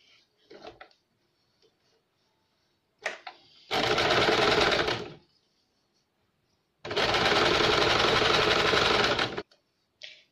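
An electric sewing machine stitching a tuck blouse runs in two sustained, loud bursts of rapid mechanical whirring, a short one and a longer one about three seconds each, with quiet handling clicks between them.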